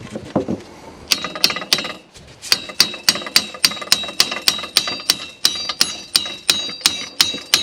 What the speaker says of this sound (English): so a couple of taps with the lump hammer